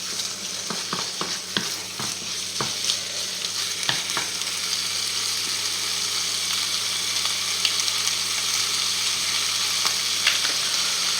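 Chicken fries in a pan over higher heat with a steady, close sizzle. A few sharp utensil clicks sound near the start, then the crackle settles into an even hiss.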